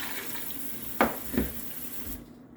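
Cold tap water runs steadily into a measuring cup for about two seconds in a kitchen, with a couple of louder splashes partway through before the flow stops.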